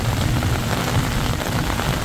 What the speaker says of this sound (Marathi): पाऊस आहे